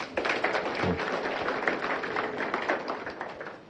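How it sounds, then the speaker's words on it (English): An audience claps for a Kenyan government minister at a formal event, a dense, steady round of applause with sharp individual claps, fairly close and sustained throughout. "Please clap for this minister."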